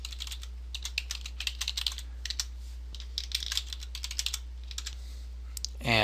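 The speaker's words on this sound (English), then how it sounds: "I'm going to type in my username and password." Keys clatter on a computer keyboard as a username and password are entered, close and crisp in short bursts with brief pauses, over a low steady hum.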